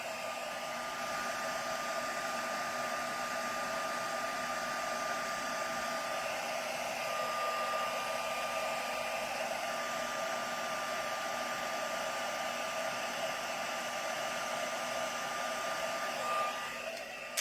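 A heat tool sets mica embossing powder on a handmade card, blowing with a steady, even whir that continues unbroken at moderate distance with no talk.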